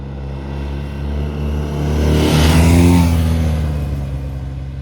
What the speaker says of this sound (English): The engine noise is quite nice.